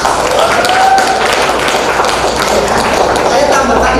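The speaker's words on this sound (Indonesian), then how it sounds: "Nah, itu tepuk tangan jawabannya." Hands clapping together as applause in a classroom lesson, a dense, steady patter of many claps filling the whole stretch at close range.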